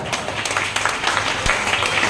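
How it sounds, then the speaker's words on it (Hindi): A hall audience at a religious gathering claps continuously, a dense close patter of many hands throughout. "महावीर युवा मंडल के सभी साथियों के लिए पूरा सदन जम से तालियां बजाए"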